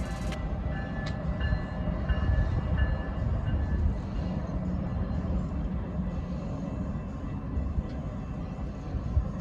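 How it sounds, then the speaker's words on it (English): A train rumbles past steadily with low mechanical roar and faint squeals, a brief horn-like tone near the start, heard from nearby. "we found the train is passing through the town"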